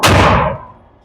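A single loud 9mm pistol shot fired from a custom slide: one sharp close blast that decays quickly, with no talk over it.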